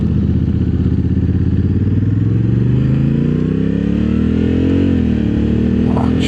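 A 2024 Honda Africa Twin Adventure Sport DCT motorcycle rides along and slows on the foot brake, a steady close engine drone whose pitch shifts as the bike decelerates, with road noise and no talk.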